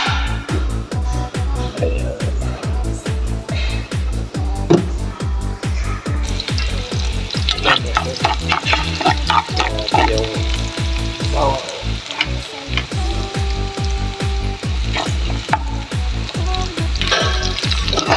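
Onions frying in olive oil in a pan, a loud continuous close sizzle with rhythmic scraping stir strokes and a few clinks throughout.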